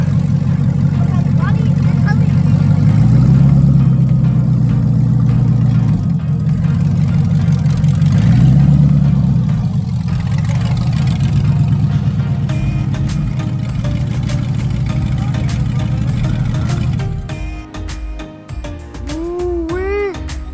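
A Factory Five Cobra with an LS engine idles and rumbles steadily as it is driven slowly indoors, the low engine drone holding throughout before easing near the end, with some voices talking over it.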